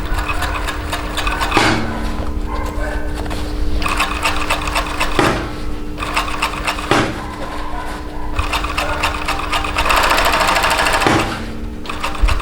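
Overlock serger running steadily while finishing the edges of a welt pocket, a dense mechanical whir broken by a few short pauses and restarts, close and loud with no talking.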